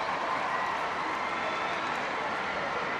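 Steady broadband roar of a 15,000-strong stadium crowd before a Wales versus Bosnia and Herzegovina women's World Cup qualifier, a continuous even wash of distant voices with no single sound standing out.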